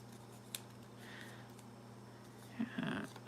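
A pair of scissors snips a small paper craft piece in half at a hobby table: one short, close cut near the end, alone over a faint steady hum.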